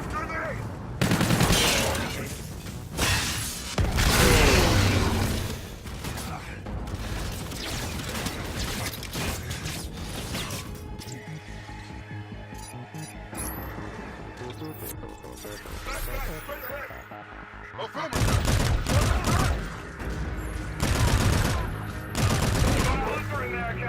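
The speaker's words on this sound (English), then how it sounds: "Cluster grenade!" Cluster grenade blasts and gunfire in Call of Duty Infinite Warfare, a loud, dense battle of bursts, rapid shots and mechanical clatter with calmer stretches between, voices shouting over the fighting.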